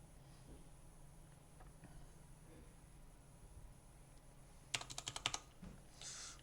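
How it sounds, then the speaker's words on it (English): A short, quick run of keystrokes clatters on a computer keyboard, close and crisp after a stretch of faint room hush, tapering into a soft final rustle. "I'm going to have to type something first before I can move the text box."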